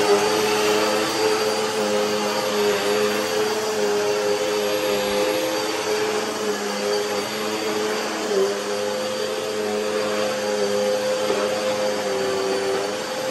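A Henry vacuum cleaner runs steadily and close by, giving an even motor whine with a constant airy rush and no breaks or speech.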